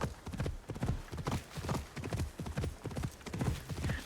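Horse hooves clip-clopping at a steady gallop in the video game Assassin's Creed Shadows, with rhythmic close thuds and an occasional faint whinny, heard alone throughout.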